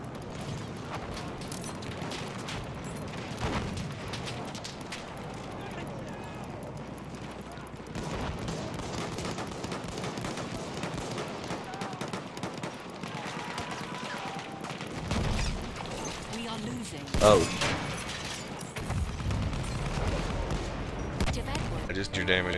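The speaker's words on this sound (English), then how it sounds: "Ah, shit, I'm getting sniped." Sniper and rifle gunfire in the first-person shooter Battlefield 1, scattered shots over steady battlefield noise with one sharp, loud crack standing out near the end, while a player talks over the action.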